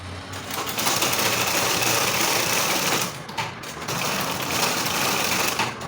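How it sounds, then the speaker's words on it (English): A sewing machine top-stitches a long-sleeve cuff in a steady, close, continuous whir, pausing briefly near the three-second mark before running again. "So you just turn it to the front like this and top stitch on top."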